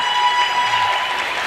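Vocal Owens fans at a women's college basketball tournament game against Cincinnati State raise a steady, dense wash of cheering and applause that fills the whole moment without a break.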